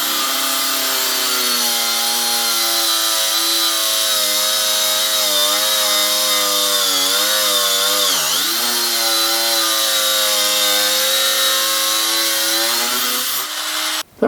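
A Parkside cordless angle grinder cuts through 10mm stainless steel, a loud, close, sustained high-pitched whine that holds steady, dips briefly midway, then recovers before cutting off at the end.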